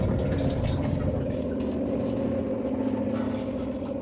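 Water pours steadily into a pressure cooker in a home kitchen, a continuous close splashing fill with no one talking.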